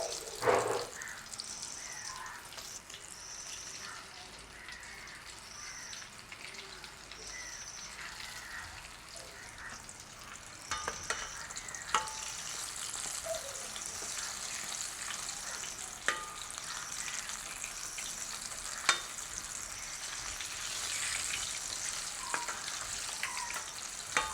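Palm-jaggery chickpea suusiyam fries in oil with a soft, continuous bubbling sizzle, punctuated by occasional faint clicks and taps of a utensil, fairly quiet and steady throughout.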